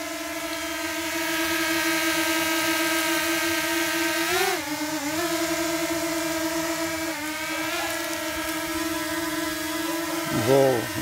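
A DJI Mini 2 drone flies over cerrado scrubland in Mato Grosso, giving off a steady, continuous high-pitched motor whine with stacked harmonic tones that dip and shift in pitch as it maneuvers.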